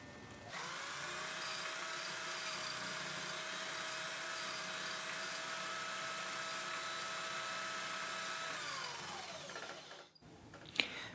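A homemade lathe machining a carbon steel plate gives a steady, high-pitched motor whine with strong harmonics that holds for about nine seconds, then winds down and stops, followed by a brief knock.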